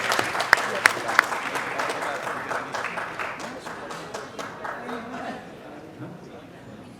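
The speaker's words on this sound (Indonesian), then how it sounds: "Tepuk tangan meriah untuk Bapak Agung Gumelar." An indoor audience at an Indonesian anniversary event gives warm applause, dense steady clapping with a few sharp claps up close, fading toward the end, while a voice speaks over it.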